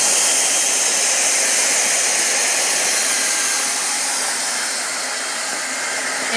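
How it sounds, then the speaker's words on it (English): A Weldy 1600W automatic hot air welding machine runs steadily on the ground, giving a loud, continuous, close airy blower roar with a broad hiss that stays even throughout, no voices. "So now let's begin welding. Now we can see the welder works automatically on the ground."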